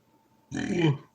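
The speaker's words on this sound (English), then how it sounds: "I am burping it up, guys." A man's loud, close burp after eating fast food, a single low rumbling belch of about half a second rising suddenly from a quiet room.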